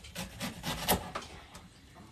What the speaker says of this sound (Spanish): cortar la cebolla